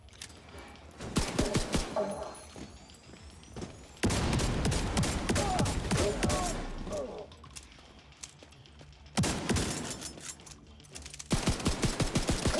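Rapid pistol fire in a video game, fast repeated sharp cracks in several long bursts separated by quieter stretches, with a voice talking in between.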